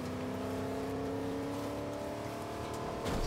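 A truck in Fortnite drives along with a steady, moderately loud engine drone and road rumble, holding constant throughout with a slight swell at the end and no talk.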